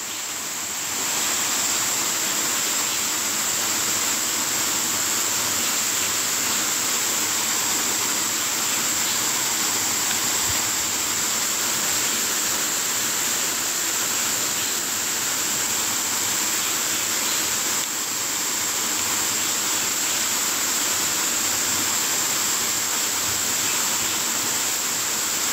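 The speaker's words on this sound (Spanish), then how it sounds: "Miren qué cascada." A countryside waterfall at La Rejoya de Camú in Puerto Plata sends out a constant, loud rushing roar of falling water, unbroken and alone for the whole stretch with no voices.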